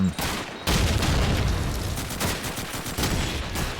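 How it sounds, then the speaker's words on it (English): Grenades bursting in a Call of Duty 2 match, a loud rapid volley of blasts and crackling gunfire packed close together with no pauses. "There's some interesting nades just then."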